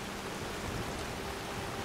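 Steady rain in the video game Skyrim, an even, constant hiss of falling drops with no breaks, moderately quiet and heard alone.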